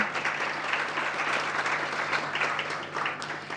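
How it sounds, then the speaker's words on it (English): Steady audience applause honours a panel moderator at an agriculture and healthcare technology event, a continuous wash of clapping with a faint low hum beneath. "Let's also have a round of applause for Dinesh sir, who has done a commendable job at driving our panel."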